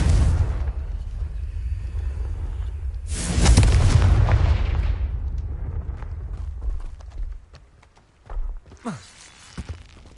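The Confringo fire spell in the video game Hogwarts Legacy lands as a heavy, rumbling boom that swells and fades over a couple of seconds. Lighter game effects and clattering follow afterward.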